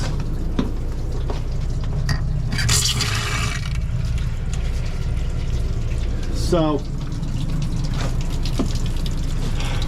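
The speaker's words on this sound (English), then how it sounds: "run the water until you smell bleach coming out" Tap water runs into a motorhome sink, a steady close splashing stream that continues under a man's speech, with a few clinks and a brief squeaky sound partway through.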